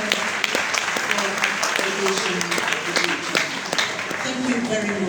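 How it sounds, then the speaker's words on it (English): An audience at the University of Uyo's 100th inaugural lecture applauds the Vice Chancellor with sustained, dense clapping from a crowd that fills the hall for several seconds. "Another round of applause for the Vice Chancellor."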